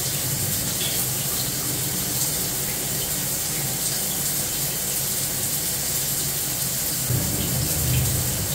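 Water from a home shower runs in a loud, steady, continuous rush that fills the whole stretch, with no talking over it.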